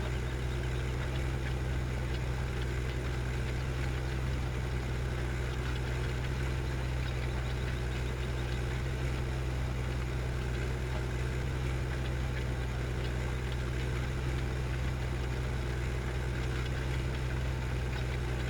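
An undersized tractor engine in Farming Simulator 2015 drones at a steady, unchanging idle for almost twenty seconds, with a low, constant hum and light vibration.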